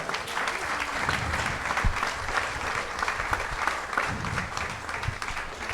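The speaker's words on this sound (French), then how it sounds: "Je demande un tonnerre d'applaudissements à tous nos intervenants." Sustained applause from a large audience at a book presentation, steady and dense clapping filling the whole stretch without a break.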